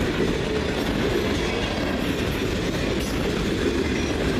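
A CN freight train rolls past at close range in Ladysmith, a continuous heavy rumble with rattling cars and clacking wheels.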